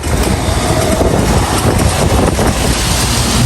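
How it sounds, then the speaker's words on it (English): A Carrier rooftop HVAC unit with its blower and compressor running, a loud, steady, broadband roar and whoosh of moving air that stays constant throughout, with no voices. "You see that the blower is working now. The fan is working."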